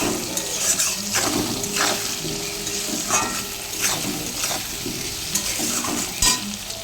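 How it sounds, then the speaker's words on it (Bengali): Potatoes with salt frying in a kadai make a continuous close sizzle, with rhythmic spatula scrapes and occasional metallic knocks against the pan roughly every second, and no voices. "আলু দিয়ে দিয়েছি নুনও দিয়ে দিয়েছি একটু ভাজা ভাজা হবে"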